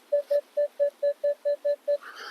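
A Minelab X-Terra Elite metal detector sounds nine short, evenly spaced electronic beeps in a quick, regular rhythm, clear and close, during a search of a field.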